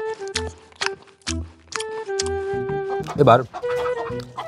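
Chickens cluck close by in short repeated bursts, with one louder squawking flurry near the end, mixed in with a person talking over them.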